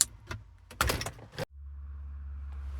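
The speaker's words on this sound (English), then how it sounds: "just push down on the tab, slide that out" A door switch is unclipped and slid out of a 2008 Honda Odyssey's interior trim, giving a few sharp plastic clicks and scrapes, then a steady low hum.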